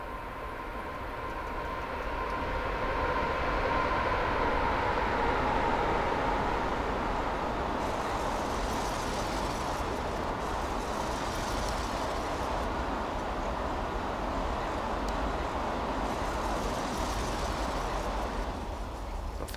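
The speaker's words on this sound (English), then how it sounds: "this is the train the 37 is waiting for before it can actually go on the main line" A freight train rolls past Shap Summit in Train Simulator 2018, a steady rumbling roar with rail noise that holds at an even, close level throughout the pass, without any voices.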